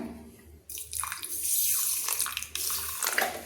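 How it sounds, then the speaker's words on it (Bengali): Water is poured into a mixer jar holding cumin, ginger and green chilli for a spice paste, a steady splashing trickle that rises and continues for a few seconds. "আমি একটু জল দিয়ে দিলাম"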